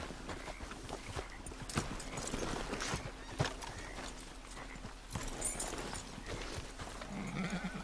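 Horse hooves clip-clop steadily in a Red Dead Redemption 2 game scene, a continuous rhythmic patter of several steps at moderate distance over faint background ambience, with no talking.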